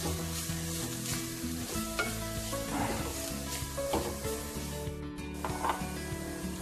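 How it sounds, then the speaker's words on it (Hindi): A vegetable momo filling mixture is stirred in a hot pan, with steady sizzling and frying crackle and repeated scraping strokes of the spoon running throughout, close and fairly loud, with faint background music. "और उसको अच्छे से स्टर कर लेंगे।"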